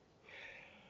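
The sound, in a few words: sneeze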